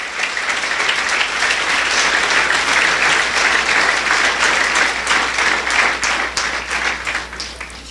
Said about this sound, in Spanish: ¿Por qué no le damos un aplauso a Jesús esta mañana?